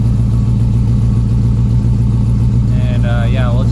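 Volvo 240 engine held at a steady high idle of roughly 1,500 to 2,000 rpm on the manual choke after a cold start, loud and close with an even, throbbing drone; a voice speaks briefly near the end.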